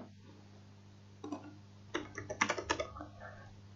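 Typing on a computer keyboard: a short burst of quick, close key clicks after a few isolated taps, over a faint steady electrical hum.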